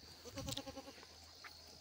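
A ewe bleats once, a short wavering call for her lamb, fairly close but soft, followed by quiet farmyard background with no talking.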